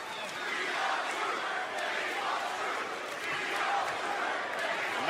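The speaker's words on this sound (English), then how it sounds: "The crowd is still going nuts for R-Truth." A wrestling arena crowd roars and chants for R-Truth during WWE Monday Night Raw, a sustained, loud wash of cheering with no break throughout.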